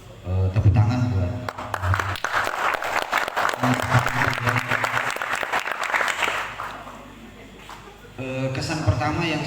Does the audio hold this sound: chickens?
no